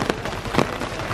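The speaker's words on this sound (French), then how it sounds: "c'est la mousson, grosse pluie" Heavy monsoon rain pours down on a street in India, a dense, loud hiss of drops hitting surfaces with brief splashy surges, close and continuous.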